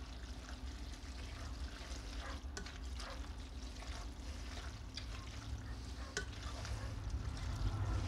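Shells and cheese stirred in a pot, a quiet, soft, continuous mix of wet churning and faint clinks under a low steady hum, with no voices.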